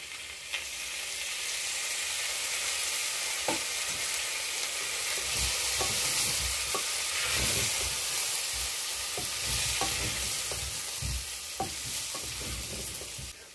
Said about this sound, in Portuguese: Vamos dourar essas batatas.